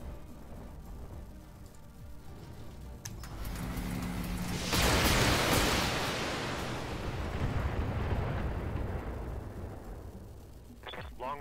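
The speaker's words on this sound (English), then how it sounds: "Long-range missiles are out." Long-range missile volley in the BattleTech mech combat game, a broad rushing roar of launches and impacts swelling from midway and rumbling on for several seconds, fairly loud and alone.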